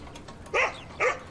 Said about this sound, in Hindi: बाबा देखो, सिनामोन किसी पर भौंक रहा है।